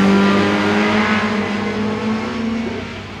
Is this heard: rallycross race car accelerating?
yes